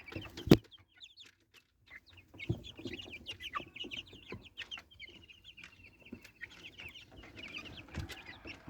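Free-range native chickens cluck and a rooster calls outdoors in the sun, with bursts of clucking and chirpy calls spread across the scene, one sharp loud knock near the start.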